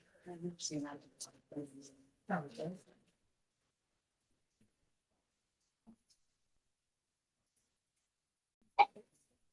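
In a courtroom, after some muffled voices and a long quiet pause, one short, sharp sneeze bursts out near the end.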